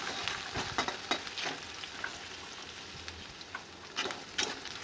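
Green chillies and ginger-garlic paste sizzle steadily in hot oil for veg noodles, with several sharp spatula scrapes and stirs against the pan, close and fairly loud, no talking.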